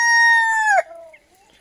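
A single loud call from a free-range village chicken in the rain, a sustained harmonic crow-like note that breaks off abruptly, followed by faint softer sounds and near silence.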